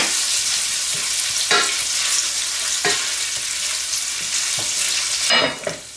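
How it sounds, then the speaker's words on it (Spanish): Gulas and bacon sizzle in a frying pan while being stirred, a loud continuous frying hiss with occasional scraping strokes of a utensil against the pan and a brief clatter near the end. "Y ahora añadimos las gulas. Las removemos un poco."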